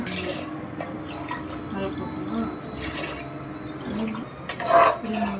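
Water splashes and trickles into a cooking pot nearby, running steadily for a few seconds with a brief louder gush near the end, under faint talk, while cooking mushroom biryani.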